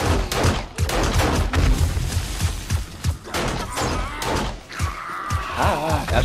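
Rapid bursts of gunfire in the video game 7 Days to Die crack and thump repeatedly, loud and close, with a brief electronic tone near the end.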